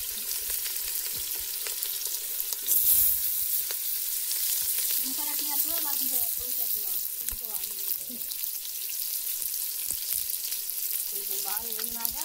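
Onions frying in a pan during village-style cooking, a continuous close sizzle with stirring scrapes, while a voice talks faintly at moments underneath.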